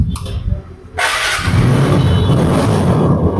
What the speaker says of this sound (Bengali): বাইকটা কিন্তু ইঞ্জিন সাউন্ড থেকে শুরু করে সবকিছু ফার্স্ট ক্লাস